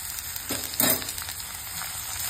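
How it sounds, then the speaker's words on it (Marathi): Mint leaves and grated coconut sauté in a hot pan with lentils, garlic and chili, giving a soft steady sizzle with a couple of brief stirring scrapes. "आता त्याच्यातच पुदिना आणि नारळ हे दोन्ही परतून घेणार आहे"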